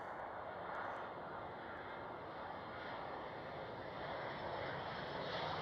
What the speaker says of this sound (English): Here is the next KLM 777.